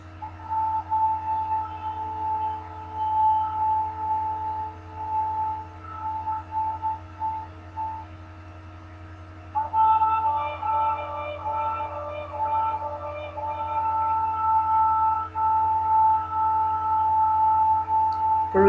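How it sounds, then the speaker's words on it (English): A shofar, the ram's horn, sounds in long, steady, brassy tones during a prayerful religious observance. There are two extended sustained sections with brief wavering breaks, loud and alone with no talking. "And here is the shofar for you."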